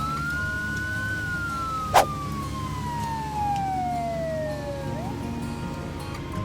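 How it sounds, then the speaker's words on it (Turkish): An animated ambulance sounds its siren in one long, clear falling wail with a sharp click partway through, over a soft steady background hum. "Çatısında bir siren lambası var. Bu bir ambulans."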